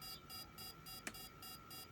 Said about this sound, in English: Oh, that's an alarm.